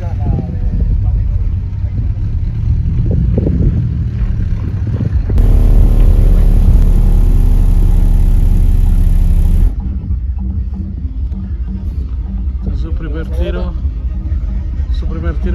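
A Jetta fitted with an Eleven Audio car audio system plays a deep bass sweep during a competition, a loud, sustained low roar lasting several seconds, heard amid crowd noise and people talking.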